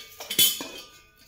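A brass fish-curry cooking pot, wide and round, is handled, giving a few quick metallic clinks and knocks up close, with one louder ringing clink in the middle before it fades.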